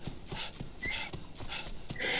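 Horse hooves from a modded riding mechanic in a game built on the Creation Engine clip-clop in a quick, even rhythm, faint and close, with no talking over them.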